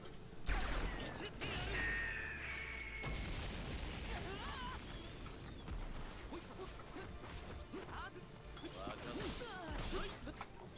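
Bazooka blasts, impacts and crashes from the fighting game Jump Force come in sharp, loud bursts over a busy mix of game effects and voices, with people talking throughout.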